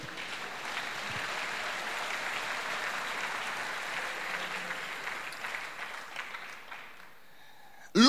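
Sustained applause from a church congregation, a steady broad wash of many hands clapping together for about seven seconds before it thins and fades out, with no voices over it.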